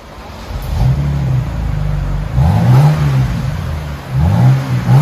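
A 2011 BMW 328xi with dual exhaust and the rear muffler deleted revs repeatedly, loud rising and falling exhaust swells over a steady idle drone, recorded close with no talking.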